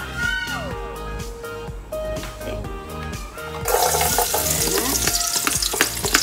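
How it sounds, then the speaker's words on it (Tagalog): Garlic frying in hot oil for Filipino-style chop suey: a crackling sizzle that swells into a louder, dense hiss halfway through, heard alongside background music. "Hintay lang natin maging brownish yung garlic"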